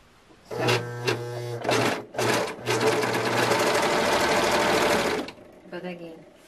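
A sewing machine stitches a dress in short close bursts, whirring and rattling, then one longer run before stopping, followed by a few brief clicks.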